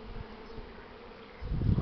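Honey bees buzz around a hive entrance as a first swarm is hived, a close, continuous insect drone that swells louder near the end, with no voices.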